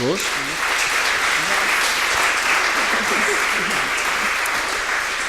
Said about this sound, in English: I think they deserve a hearty round of applause